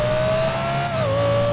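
A car engine revs in GTA 5, a sustained close whine that dips briefly and then rises again over a short, steady burst.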